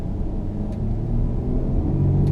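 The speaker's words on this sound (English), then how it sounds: "You have your V6 exhaust note whenever you floor it." A 2007 Audi Q7 with the 240 horsepower 3.0 TDI V6 diesel accelerates at full throttle, a deep, steady engine rumble building gradually in loudness from inside the cabin.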